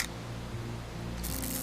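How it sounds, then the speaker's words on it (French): A camera shutter click from the video game What Remains of Edith Finch, a single bright click near the end over a steady low game ambience, with no talk. "je vais lui faire peur avec le déclencheur"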